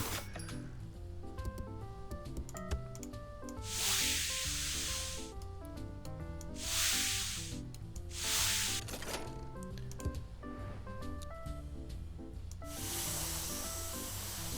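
Cleaning spray nozzle from the Reshine game hissing in several broad bursts of about a second each, loud and close, over a steady musical background with no talking.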